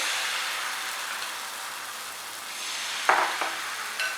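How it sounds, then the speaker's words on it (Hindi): Crepe batter hits a hot pan greased with oil, giving a continuous close hiss of sizzling, with a couple of brief clatters near the end. "पैन को ऑयल के साथ ग्रीस करेंगे। अब इसमें ये बैटर डालेंगे"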